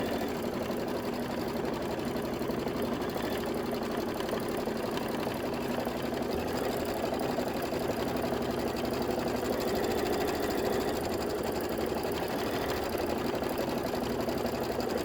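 A sewing machine stitches fabric for a quilted table topper, a steady fast mechanical whirring that stays even and close throughout with no pauses.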